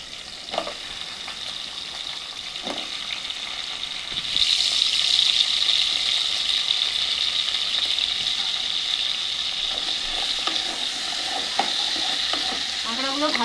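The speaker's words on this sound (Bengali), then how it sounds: "তেলটা গরম হয়ে গেছে, এবার আমি কাঁকড়াগুলো ভালো করে লাল লাল করে ভেজে নেব।" Crabs hit hot mustard oil in a pan for a crab curry, bursting into a loud steady sizzle that keeps crackling evenly, with a few stirring knocks before it starts.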